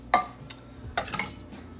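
Cutlery clinking against a slow cooker pot while stirring potatoes and other contents, a few sharp close taps and scrapes spread irregularly over a quiet background.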